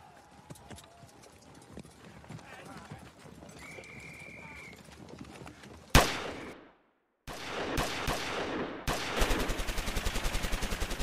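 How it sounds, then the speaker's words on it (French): A sharp gunshot rings out, then after a brief gap bursts of rapid machine-gun fire rattle loudly and continuously, close by, in a World War I battle at Verdun. "Soudain, des coups de feu éclatent, des mitrailleuses crépitent"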